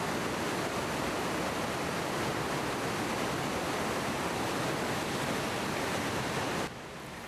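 Steady roar of the waterfall at Silver River Falls in L'Anse Township, Baraga County, Michigan, a dense broadband rush that holds loud and unbroken before dropping abruptly in level near the end.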